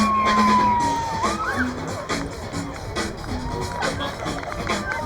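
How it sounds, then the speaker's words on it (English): A fire engine siren wails and sweeps in pitch amid a noisy crowd, with loudspeaker commentary running over it, at a BMX race in Nottingham, UK. "here comes the fire engine"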